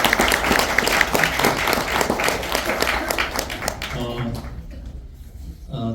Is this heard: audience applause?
yes